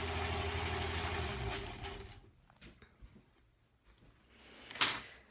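A sewing machine stitches along both sides of a diagonal seam on quilt block fabric, its steady whirring run loud for about two seconds before stopping, followed by quieter handling clicks and a short rustle near the end.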